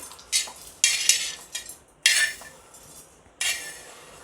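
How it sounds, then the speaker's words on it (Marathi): Ground masala scraped with a metal spoon into a steel mixer grinder jar, giving a few sharp clinks and scraping strokes in separate bursts, close and fairly loud with quiet gaps between. "आता आपला सगळा मसाला यात टाकून देऊ आपण"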